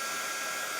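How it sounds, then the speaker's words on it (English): A vacuum cleaner runs in a home with cats, giving a steady, close, unbroken motor whine and rush of air for under a second with no voices. "He's not scared of the vacuum."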